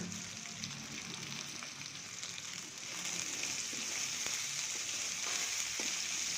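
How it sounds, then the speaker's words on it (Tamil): Green chillies, curry leaves and salt sautéing in a pan for simple tomato chutney: a soft, even hiss of frying that grows slightly louder partway through, with faint occasional stirring ticks and no talk. "இது எல்லாத்தையும் ஓரளவுக்கு வெந்து வர அளவுக்கு வதக்கிட்டு"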